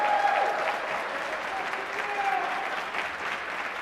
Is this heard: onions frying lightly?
no